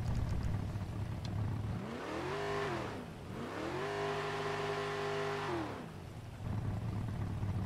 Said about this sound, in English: Why does this car have such a loud audio track?